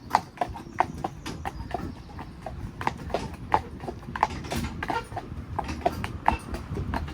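Horse hooves clip-clop in a steady, uneven rhythm as a mare pulls a carriage on a hot day after a climb, close and clear over low background rumble.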